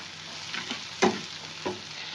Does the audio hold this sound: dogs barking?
no